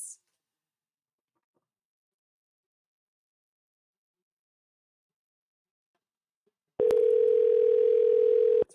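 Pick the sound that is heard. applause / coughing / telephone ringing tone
telephone ringing tone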